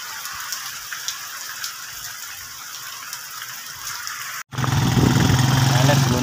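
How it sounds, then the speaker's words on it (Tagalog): Steady rain hisses throughout, then abruptly becomes louder and denser after a brief cut, with a low engine-like rumble underneath. "Gawa nang wala pong hinto yung ulan."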